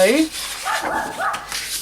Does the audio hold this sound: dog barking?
yes